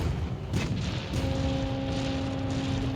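Cannon fire in a video game, with two heavy booms about half a second apart over a steady rumbling background and a sustained tone afterward.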